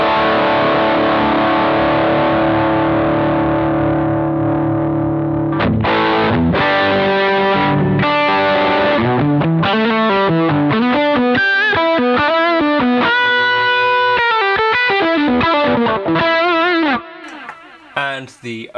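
An electric guitar plays through the Boss GX100's DS-1 distortion for hard-clipped tones: sustained chords at first, then choppy riffs and single-note lines, loud and close, with no talking.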